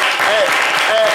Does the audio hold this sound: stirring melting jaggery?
no